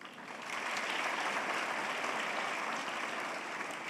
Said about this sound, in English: Brothers and sisters, please give a big round of applause to these musicians.